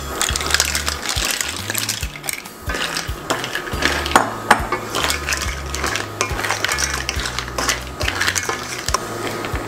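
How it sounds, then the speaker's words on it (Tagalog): Mussels tumbling into a simmering curry pot alongside shrimp, with steady clinking and clattering of shells against metal over a bubbling, sizzling background. "Okay, pwede na po natin ilagay ang ating mussels."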